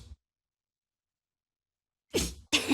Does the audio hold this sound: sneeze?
yes